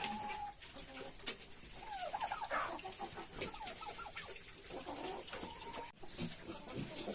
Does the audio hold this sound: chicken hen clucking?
yes